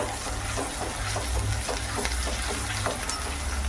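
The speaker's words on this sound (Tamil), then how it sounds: "இப்போ வெங்காயம் நல்லா பொண்ணு வறுவலாக வர வரைக்கும் நல்லா வதக்கி விட்டுக்கலாம்" Chopped onion sautéing in hot oil in a pan for an anchovy dried-fish gravy, a steady close sizzle and crackle with occasional stirring scrapes, heard alone without talk.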